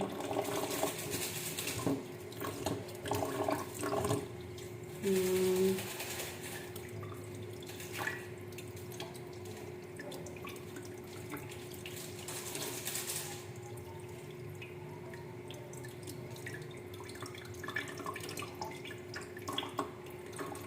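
Water from a tap runs and splashes into a home sink, a soft steady stream with a few clinks of dishes and louder gushes early on, fairly quiet overall.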